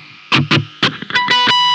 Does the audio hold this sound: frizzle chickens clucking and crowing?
no